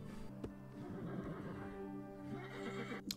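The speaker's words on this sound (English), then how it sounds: "those are the other horses from the village" Horses from a village whinny and neigh in the animated film Spirit: Stallion of the Cimarron, a long, fairly clear call over soft hoof clip-clops and a musical background.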